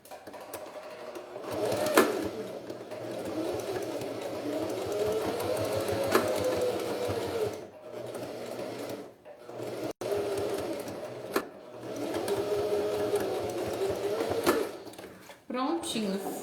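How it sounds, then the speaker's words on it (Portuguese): A domestic sewing machine stitches a folded seam on a beach pouch with a clear vinyl window, running in steady buzzing stretches broken by brief pauses, loud and close with no talk. "E vou costurar."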